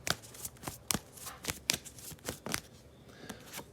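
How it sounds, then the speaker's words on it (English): Tarot cards are shuffled by hand in quick bursts, giving a series of sharp riffling snaps at an uneven rhythm, close and fairly quiet, with no voice. "I'm still kind of getting used to shuffling on camera"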